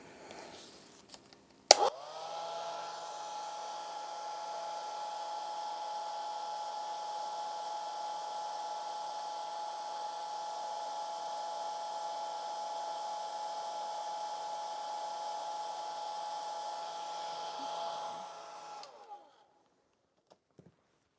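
A hair dryer blows over a wet watercolor painting of a little angel, switching on with a click and running at a steady even whir for about sixteen seconds before cutting off.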